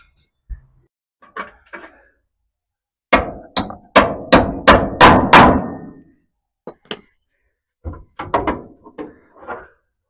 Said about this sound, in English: curve it a bit more here with the dolly hammers